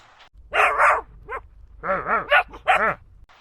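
A puppy in a video game yips and barks in quick bursts, a couple of short barks, a pause, then several more high yaps, fairly close and clear.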